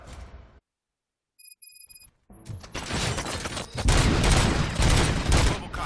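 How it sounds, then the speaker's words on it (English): Gunfire in the Robocop video game: a quiet stretch with a few thin electronic beeps, then a dense, loud burst of repeated shots and crashing impacts building to a sustained barrage. "Gunshots?"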